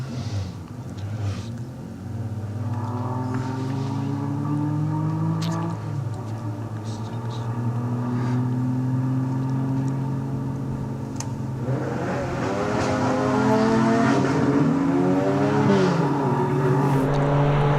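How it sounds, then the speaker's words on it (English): Norm Goodall's Porsche race car charges up a lakeside hillclimb course, its loud engine note holding steady and climbing through the gears for nearly eighteen seconds, rising and swelling again toward the end. "the Porsche of Norm Goodall is charging up there now"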